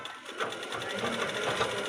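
A sewing machine stitches fabric lining at a joint, giving a fast, steady run of close mechanical needle clatter that lasts the whole short moment, with a voice faintly beneath it.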